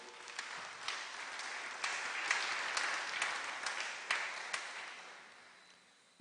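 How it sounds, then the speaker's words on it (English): Audience applause at the DLP annual conference rally, a steady wash of many hands clapping with a few sharper claps standing out, fading toward the end. "Give him another round of applause, please."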